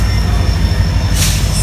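A freight train passes close by in the Sacramento Delta, south of a rail yard, with a loud, steady rolling rumble and a brief bright hiss or squeal near the end.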